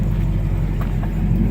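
A 1969 Dodge Charger 500 Daytona engine idling steadily, a low continuous rumble close by with no voices over it.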